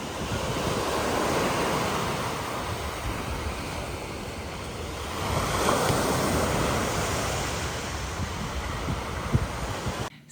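Ocean surf at Waikiki Beach, Oahu rolls in as a continuous wash of breaking waves with wind buffeting the microphone, swelling midway through, close and steady with no voices.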